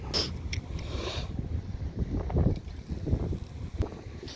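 Gusty wind buffets the microphone outdoors on a chilly day of crappie and bass fishing, a steady low rumble with rising and falling gusts, close and fairly loud throughout.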